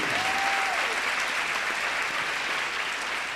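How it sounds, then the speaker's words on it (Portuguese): Dense, steady audience applause fills the whole stretch at a church-style talk event, a continuous wash of many hands clapping without a break. "Pode aplaudir"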